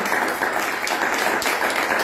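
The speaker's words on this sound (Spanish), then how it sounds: "un aplauso fuerte para ellos y para ustedes también" Loud, dense applause from an audience at a book presentation honoring writers, steady clapping filling the room throughout with no voices on top.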